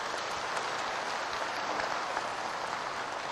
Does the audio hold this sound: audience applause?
yes